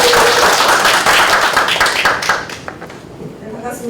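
Audience applause welcoming a professor to the stage at a Korean AI seminar: dense, loud clapping for about two seconds, then thinning out and fading to scattered claps and room noise.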